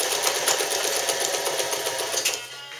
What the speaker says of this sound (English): Nice zigzag stitch there.